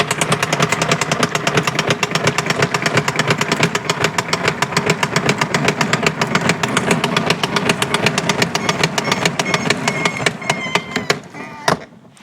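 A garden hose winds back onto a Vevor retractable hose reel with a loud, rapid ratcheting clatter that runs steadily for about ten seconds, then slows and stops with a final clunk.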